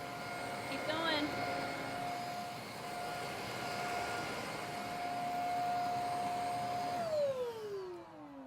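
A 450W mattress vacuum cleaner with 15Kpa suction and a rotating brushroll runs with a steady high-pitched motor whine up close, then winds down near the end as it is switched off.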